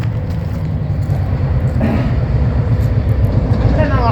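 A train rolling past near Pattipola, Sri Lanka's highest railway station, by the Ambewela area, a loud continuous low rumble of wheels and carriages close by, with a faint squeal rising near the end.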